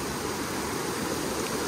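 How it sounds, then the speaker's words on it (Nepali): Floodwater from a sudden heavy downpour in Dharan rushes steadily through streets and into houses, forming a continuous, broad roar of flowing water with no voices. "घर घरमा यसरी पानी छिरिरहेको छ अहिले"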